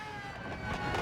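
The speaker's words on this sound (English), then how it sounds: "Slight acceleration, then we can go all in with an upshift." A race car in Gran Turismo 7 on the Highway 1 circuit accelerates, its engine note rising steadily and growing louder over about a second, with no voices.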